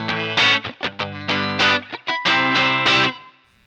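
Electric guitar run through a Winnipeg Electrical Co. Blues overdrive pedal with the lows cut back, giving a tight, bright, distorted tone; a string of loud, short picked notes and chords stops and starts in quick bursts, then rings out.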